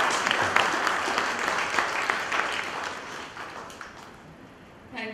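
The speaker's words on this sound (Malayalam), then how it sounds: "ഒരു കയ്യടി നമുക്ക് ഗോപികൃഷ്ണൻ" An audience at a talk on Changampuzha's poem Ramanan breaks into applause, loud dense clapping that fades gradually over several seconds, with a brief burst at the very end.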